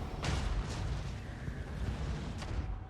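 Cannon fire in the battle game Total War: Warhammer III, deep booming blasts at intervals over a continuous low rumble of combat.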